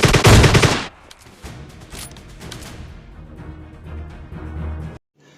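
Groza assault rifle firing in PUBG Mobile Lite: a loud, dense automatic burst for about a second, then quieter game sounds and rumbling explosions carrying on in the background.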